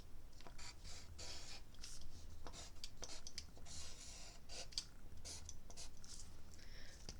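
Pen or marker strokes writing an equation by hand on a surface for a simple addition lesson, a steady run of short scratchy strokes with brief pauses, close and quiet.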